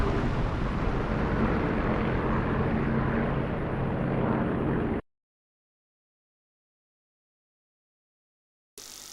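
An aircraft taking off in the DCS flight simulator gives a loud, steady engine roar for about five seconds, then cuts to silence before a brief return of engine noise at the end.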